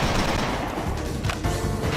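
Dense, continuous gunfire and explosions fill a battle scene in the video game XIII, a loud unbroken barrage of shots and blasts from all sides with no voices over it.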